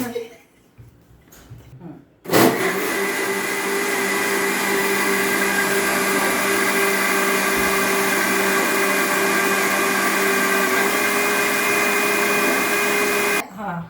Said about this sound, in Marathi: चला आता मी त्याला हे मिक्सर लावून देते